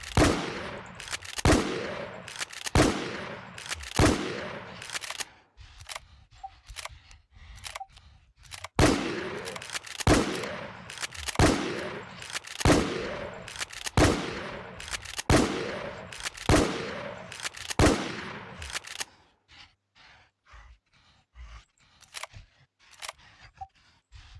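KT Decider shotgun firing in the video game Infestation: heavy blasts repeat at a slow, steady pace about a second apart, then give way to lighter, fainter clicks and taps.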